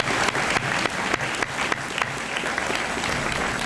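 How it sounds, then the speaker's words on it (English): An audience at a high school honors assembly applauds steadily in a large hall, a dense, sustained clapping from many hands with a few sharper claps standing out, and no talking. "let's give her another round of applause"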